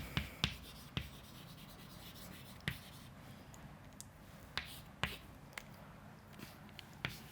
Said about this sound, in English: we can write an example here